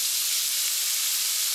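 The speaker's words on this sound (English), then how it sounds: "3 tablespoons of teriyaki sauce." Teriyaki sauce sizzling hard in a pan of sauteed asparagus, a loud continuous hiss held steady and close throughout, with no voices.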